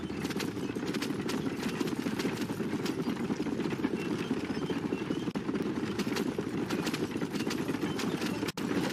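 Steady clip-clop of horse hooves in Red Dead Redemption, a continuous close, even trot with a faint whinny, heard alone without talk.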